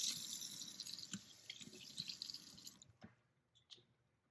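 Water rinsing a thrifted Barbie doll, a steady broadband splash and drip that runs continuously for nearly three seconds, then cuts off to a few scattered drips and faint trickles in near silence.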